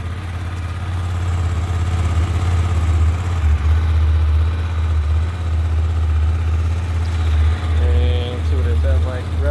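A 2016 Hyosung GT250R motorcycle with its stock exhaust idles steadily nearby, a continuous low engine rumble with a slight rise near the end, and a voice talks over it briefly.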